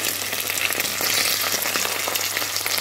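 Onions frying in hot oil with curry leaves and fennel seeds for a spicy Jaffna-style potato dish, giving a steady, close, dense sizzle that crackles continuously without pause.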